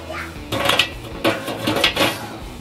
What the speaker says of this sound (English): Next, you're going to place your bars into the barrel.